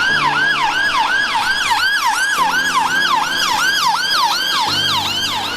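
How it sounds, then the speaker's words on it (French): Ambulance siren passing along a street in Scotland, a loud, continuous wailing tone that sweeps up and down in rapid repeated cycles over steady traffic rumble, with no talk. "Regardez l'ambulance."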